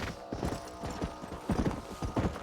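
Horses in the Red Dead Redemption video game clip-clop in a quick, uneven rhythm of hoof strikes, close and fairly clear, with no speech.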